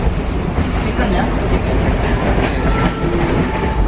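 Passenger train running through Sri Lanka, a steady loud rumble of the carriage with faint clickety-clack from the rails throughout, and voices murmuring aboard beneath it.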